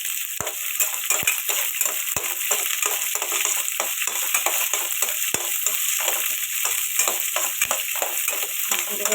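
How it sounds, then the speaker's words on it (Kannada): Mustard seeds, chana dal and peanuts fry steadily in hot oil in a pan for upma, a continuous close crackling sizzle punctuated by sharp pops and spattering seeds throughout. "ಉಪ್ಪಿಟ್ಟು ಮಾಡೋಕ್ಕೆ ಸಾಸಿವೆ, ಕಡಲೆಬೇಳೆ, ಕಡಲೆ ಬೀಜ ಎಲ್ಲ ಹಾಕಿ ಚೆನ್ನಾಗಿ ಹುರ್ಕೊತಾ ಇದ್ದೀನಿ"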